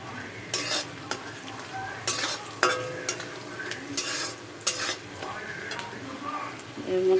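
Spices with turmeric and salt fry in a pan, a soft continuous sizzle broken by repeated scraping stirs of a spoon against metal, fairly close and moderately quiet.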